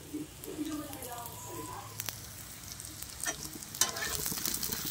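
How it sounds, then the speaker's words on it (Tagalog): Hotdogs frying in a pan at home ahead of a spaghetti snack, giving a steady sizzle and crackle with stirring scrapes and clinks, while a voice talks faintly in the background. "niluto ko muna yung hotdog natin guys"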